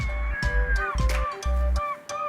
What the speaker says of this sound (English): It sounds like we're about to spot some of the birds that are native to the cliffs of Moher